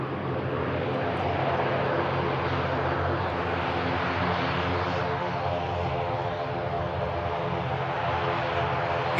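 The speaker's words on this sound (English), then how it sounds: "You're going to touch down an ATR, that's the way to do it." ATR turboprop airliner touching down, a loud steady engine drone and roar of the landing held continuously at fairly close range.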